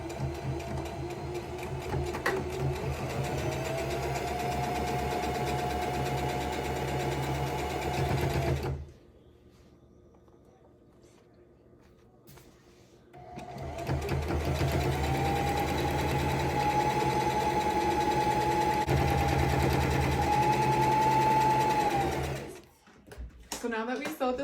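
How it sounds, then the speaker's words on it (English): A sewing machine stitches the sides of a ribbon skirt in a straight line, a loud rapid mechanical hum that runs about nine seconds, stops for a few seconds, then runs again for roughly ten more. "I'm just going to sew a straight line all the way down."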